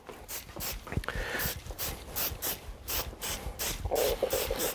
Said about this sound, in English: give it a light spray